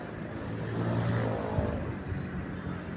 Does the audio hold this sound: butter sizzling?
no